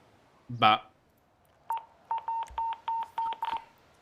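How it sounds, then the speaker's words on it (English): A phone alarm beeps: after a brief voice, six short evenly spaced electronic beeps ring out, clear and fairly loud against a quiet background. "that's just my alarm"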